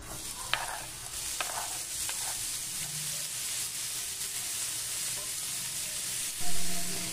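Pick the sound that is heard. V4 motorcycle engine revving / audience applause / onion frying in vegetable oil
onion frying in vegetable oil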